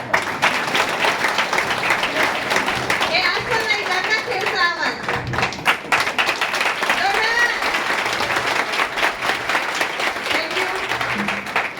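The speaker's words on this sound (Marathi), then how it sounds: "तुम्ही थकले का टाळ्या वाजून?" Audience clapping at a welcome event in Gangakhed, a dense steady patter running the whole time beneath someone talking and crowd chatter.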